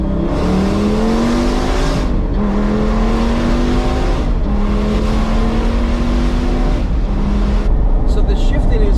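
A 2004 Lamborghini Gallardo engine roars loud and close as it accelerates, its pitch climbing through each gear before dropping at aggressive shifts, several pulls in a row, with the steady rumble of the road filling the cabin.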